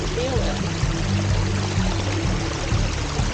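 Creek water runs continuously along a state park trail, a close, steady pouring and rushing sound with no talking over it.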